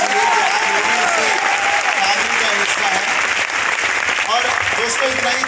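A stadium audience applauds loudly and continuously, a dense wash of clapping, while a voice speaks over the crowd.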